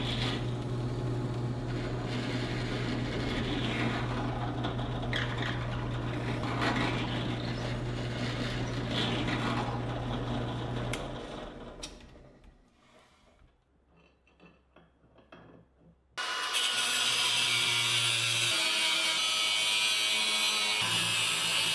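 Bolts with their heads removed are cut to length in a workshop, a power tool grinding loudly and steadily, then winding down to near quiet before a second loud cutting burst starts.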